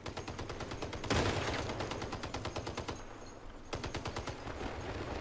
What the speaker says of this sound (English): Now, who is shooting me in the back in there, eh?